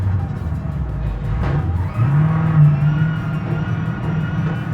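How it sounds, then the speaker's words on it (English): A heavy truck in BeamNG drives under engine braking, giving a loud steady engine drone that dips and then shifts into a higher sustained whine as the transmission strains. "I'm using the engine braking."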